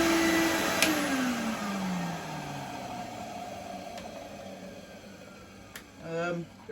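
A steady motor whine from a 1993 Numatic Henry HVR200 vacuum cleaner runs throughout, broadband and continuous, with slight bearing noise, a falling pitch sweep early on and a brief warbling tone near the end.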